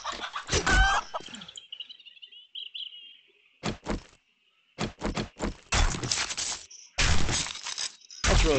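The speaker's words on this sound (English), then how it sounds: "I'm sort of screwing around chasing chickens" Chickens cluck and squawk in the survival video game 7 Days to Die, with a loud flurry of clucks at the start, then a lull and repeated bursts of clucking and flapping, close and alone without speech.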